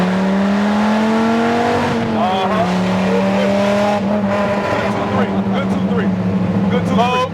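A Dodge Viper GTS ACR driven hard on a canyon road, its engine note climbing steadily through the gears with a sustained loud roar, and people talking over it inside the car.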